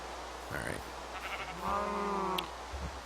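A sheep in the Minecraft video game bleats once, a clear wavering baa in the middle, surrounded by faint game sounds and a few soft clicks.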